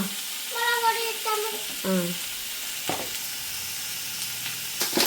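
Onions sizzle and fry in hot oil in a pan for a kilingfish curry, with a soft continuous crackle, occasional stirring clatter and a few short voice bursts over the top.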